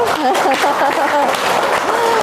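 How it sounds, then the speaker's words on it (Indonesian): Clapping from a group of people mixed with lively voices and chatter, steady and close throughout. "Tepuk tangan dulu."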